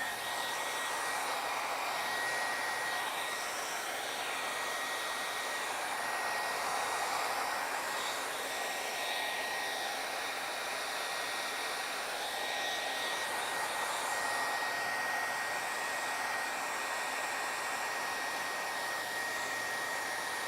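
A hair dryer blows steadily on freshly painted Mod Podge artwork, a constant, even whooshing hiss that runs unbroken at moderate volume with no voices.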